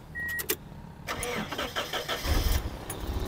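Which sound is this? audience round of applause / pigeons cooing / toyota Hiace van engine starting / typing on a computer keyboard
toyota Hiace van engine starting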